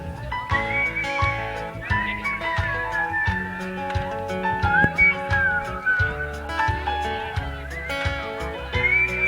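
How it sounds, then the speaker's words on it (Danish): Several people whistle a melody together during a Danish pop song performed live at an outdoor concert in Alanya, Turkey, the whistled tune carried over continuous band music. "Så fløjter vi sammen."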